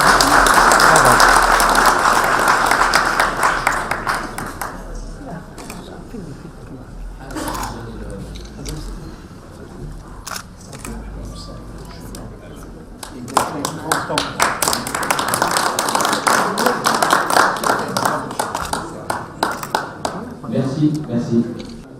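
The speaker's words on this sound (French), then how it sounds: "je voudrais qu'on applaudisse Madame Soulet." A conference audience applauds under voices, the clapping fading briefly and then building again into a fuller, sustained round toward the end.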